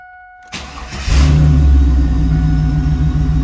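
A Chevrolet SS Camaro engine cranks and catches, then settles into a loud, steady, rumbling idle that continues without talk.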